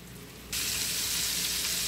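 Butter foaming and sizzling loudly in a pan as chicken fillets brown, a sudden steady hiss that starts after a quieter moment and continues close and unbroken.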